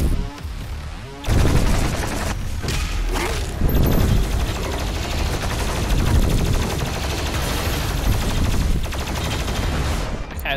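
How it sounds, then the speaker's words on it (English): Rapid, continuous plasma rifle fire in the shooter DOOM Eternal, loud and dense after a short quieter opening, with booming impacts and mechanical clatter layered throughout. "Plasma rifle."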